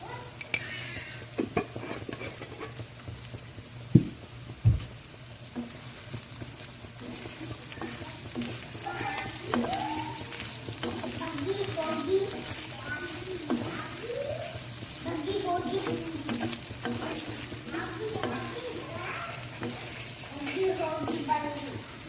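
Potato fry sizzles steadily in a pan with chili powder added, with occasional stirring scrapes and utensil clinks, while a person talks over the cooking.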